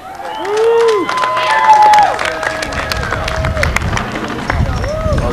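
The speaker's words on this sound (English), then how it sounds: "let's give a big round of applause for Mark Pederson" Audience applause and cheers greet Mark Pederson at a cannabis revival event, loud clapping and whoops swelling early then holding steady, with a voice speaking over the crowd.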